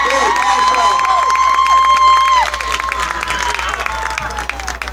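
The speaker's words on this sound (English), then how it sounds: "Big round of applause" Crowd applause and cheering for high school football coaches at a stadium game, loud sustained clapping with shouts and whistles, a voice over the public address, then somewhat quieter clapping continuing.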